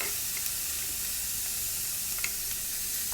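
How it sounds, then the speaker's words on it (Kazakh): Fat rendering for a Kazakh kuyrdak in a hot dry pan gives a constant close sizzle and hiss with scattered faint pops, steady throughout. "Құрғақ ыссы табаға майды салып шыжғырып аламыз."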